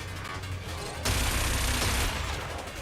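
A bomb weapon detonates in the futuristic racing game Wipeout Omega Collection, a sudden loud, dense blast that roars for about a second over continuous engine and music noise before settling back.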